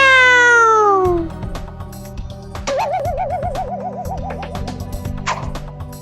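A long, high meow with falling pitch opens the clip, followed by busy background music with a wavering tone.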